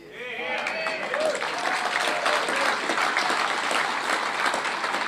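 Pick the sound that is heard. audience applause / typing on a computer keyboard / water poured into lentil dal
audience applause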